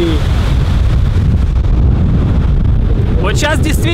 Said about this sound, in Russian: Вот сейчас действительно проверка микрофона по полной, потому что ветер.